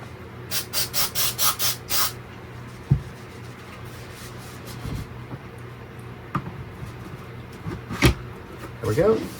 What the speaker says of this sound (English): Spray on the inside.